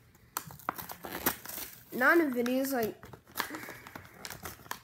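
Easter candy packaging is torn open by hand, with crinkling plastic rustles and sharp crackles close to the microphone. A young voice talks over the crinkling.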